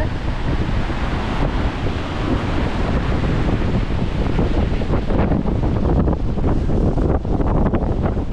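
Sea waves roll onto a shore battered by Typhoon Uwan, a loud continuous roar of surf close by, heavily buffeted by gusting wind on the microphone.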